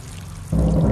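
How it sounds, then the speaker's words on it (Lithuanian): Heavy rain pours onto the concrete frame of an abandoned office building, a loud, steady broadband wash that starts quieter and swells abruptly halfway through, then holds constant with no voices. "Betoninį šio biurų pastato karkasą, kadaise apsaugota nuo gamtos stichijų, dabar merkia lietus."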